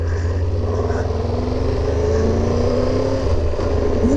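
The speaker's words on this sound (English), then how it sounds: "this is a pretty big, pretty powerful motorcycle" Triumph Tiger, a big and powerful motorcycle, runs steadily during a ride with a continuous loud engine drone and rising tone as it pulls away, close and unbroken for the whole stretch.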